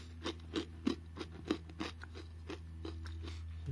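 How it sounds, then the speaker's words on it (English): Close, crisp crunching of sweet chilli peanuts being chewed, about a dozen sharp bites in a steady rhythm over a low background hum. "They're crunchy, so you can hear that."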